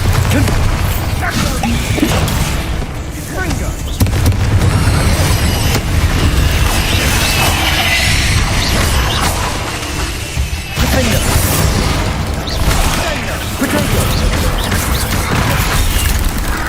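Confringo and Bombarda blasts in Hogwarts Legacy crash and boom repeatedly over a long stretch, loud heavy impacts layered with smashing debris, while a voice calls out over the chaotic combat.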